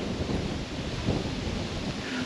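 Strong wind gusts roar steadily across a bicycle with a caravan trailer on a hilly ride toward Lake Constance, a dense, close buffeting rush on the microphone with a brief louder gust near the middle and no talk.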